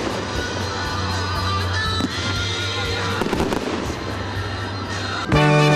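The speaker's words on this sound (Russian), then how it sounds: "заводчане получили грандиозный салют из 105 выстрелов" Grand fireworks salute of 105 shots for the jubilee of the Motor Sich plant, a dense continuous barrage of crackling bursts and booms, loud and sustained, ending in a sharper burst.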